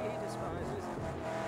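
A car slides and loses control on a dusty wasteland road in the Mad Max video game, with engine drone and scrubbing tyres under steady game noise while someone talks over it.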